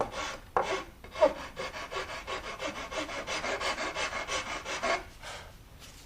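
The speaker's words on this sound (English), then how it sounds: "then just gotta file around all the edges" Someone files the rounded edges of a homemade wooden bicycle rack: close, steady rasping strokes in a quick regular rhythm, with no talking.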